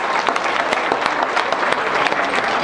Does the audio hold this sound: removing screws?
no